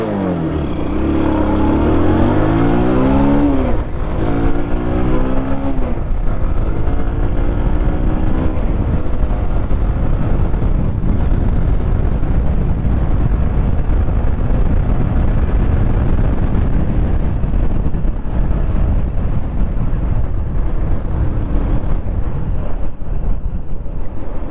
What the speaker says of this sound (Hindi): अब थोड़ा इसको स्टार्ट करते हैं किक मार के